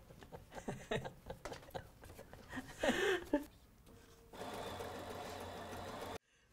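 A sewing machine stitches the side seams of a fabric pincushion angel, a steady close mechanical whirr starting about midway and running for a couple of seconds, after scattered quieter handling noises and brief talk.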